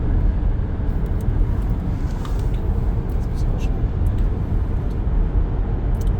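XPENG P7 electric car cruising at highway speed, a steady, loud rumble of road and wind noise with no break throughout.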